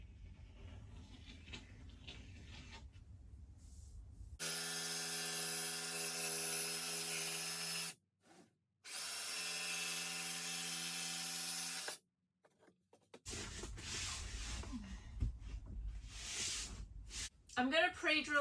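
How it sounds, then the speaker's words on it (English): A power drill pre-drills holes through the aluminium frame of a vintage caravan, giving two loud, sustained high whines with a short pause between them. A person speaks before and after the drilling. "I'm going to pre-drill all of my holes because I'm going through the aluminium frame."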